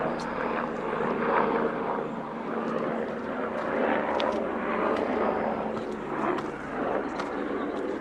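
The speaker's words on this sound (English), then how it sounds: "As a Coast Guard helicopter" A Coast Guard helicopter passes overhead as a steady, moderately loud rotor and engine drone over a runner's outdoor route, rising and easing slightly across the stretch.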